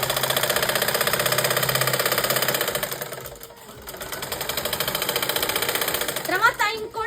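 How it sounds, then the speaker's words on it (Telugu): A sewing machine runs in steady rapid bursts while double stitching a dress, pausing briefly midway before resuming its fast mechanical chatter, with a voice speaking over it. "చూడండి, నేను కుడుతున్నాను."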